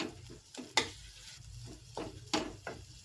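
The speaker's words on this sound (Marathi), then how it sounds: "चांगलं परतून घ्यायचा हा मसाला. आता हे चांगलं परतून घ्यायचंय." Masala being stirred and sautéed in a pan while it cooks down, with a steady low sizzle and several sharp scraping strokes of a spoon against the pan, close and alone.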